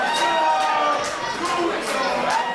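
A Lucha Underground wrestling crowd in Berlin screams and shouts in anticipation before a match, a dense, steady roar of many voices with shrill cries rising above it, loud and continuous throughout.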